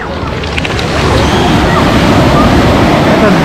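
Black Sea waves washing onto the shore, a loud, continuous roar of surf that swells and stays broad and dense, with faint knocks early on.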